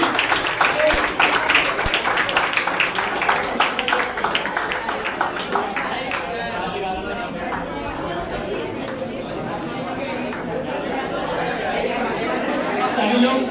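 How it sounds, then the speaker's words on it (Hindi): Audience applause and clapping for a winning team at a debate event, dense and steady through the first half, then fading into crowd chatter that carries on to the end. "So please give him big hand of applause, big clapping please"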